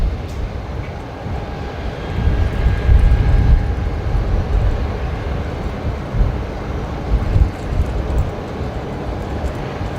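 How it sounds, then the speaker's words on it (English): A China Southern Airbus A350-900 takes off at night at Brisbane Airport, its jet engines making a steady, heavy rumble that swells and fades slightly across the stretch. "The A350-900 heading off to Guangzhou tonight."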